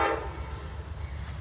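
An Amtrak Cardinal passenger train passes on jointed rail: a short horn toot at the start, then steady low rumbling.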